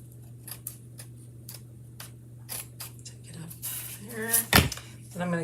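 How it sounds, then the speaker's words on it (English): Scissors cut craft paper for a decorative egg in a string of small, close snips and clicks. A person speaks between the cuts, and a clatter and a scraping sweep follow near the end. "I'm gonna go in with my scissors."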